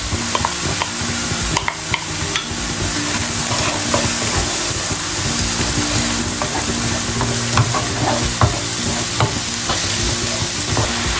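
Sliced peppers sizzle loudly in a pan of sautéed onion, a steady close frying hiss with stirring scrapes running throughout without a break.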